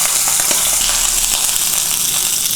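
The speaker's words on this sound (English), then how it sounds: "So we just sear 1, 2, 3, 4 and go." A steak that was confit in oil and already cooked is seared in a hot pan, giving a loud, steady broadband sizzle that holds evenly for a few seconds with no voices over it.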